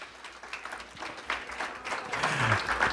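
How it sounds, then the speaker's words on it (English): An audience at a talk on teaching history and critical race theory gives a round of applause, a soft, continuous patter of many hands clapping at a distance that builds slightly toward the end. "let's give Dr. Stovall a round of applause."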